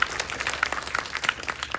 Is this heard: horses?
no